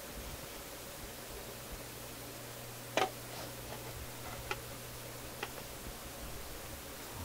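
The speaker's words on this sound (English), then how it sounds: "which channel is making the clicking sound, but I can certainly tell." A Philips console stereo receiver with a fault gives faint sharp clicks over a steady background hiss and hum, with one louder pop early on and a few softer ticks after it.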